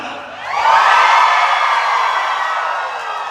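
A crowd at a training event screams and cheers, a loud sustained roar of shrieks and whoops that swells quickly and then holds before easing slightly.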